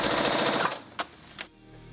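A sewing machine top stitches a jogger skirt, a short burst of rapid close needle chatter that stops abruptly, followed by a few faint clicks.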